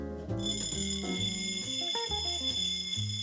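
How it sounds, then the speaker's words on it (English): A rare mechanical wristwatch's alarm rings out, a bright metallic buzzing bell sustained over a couple of seconds alongside a stepping tonal melody, loud and near with no speech. "So you can set a time and the alarm will ring at that time. Shall we try to ring the bell?"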